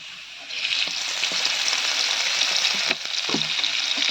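Onion, garlic and turmeric sizzle loudly in hot oil as a tempering for thickened lentils, a steady broadband frying hiss that swells after a moment, with a few soft clinks near the end.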